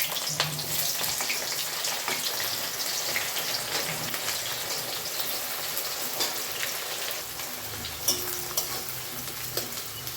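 Onions go into hot oil with dried red chillies and whole cumin for a mutton curry, giving a steady, dense sizzle and crackle close up that runs throughout with faint stirring and no talk.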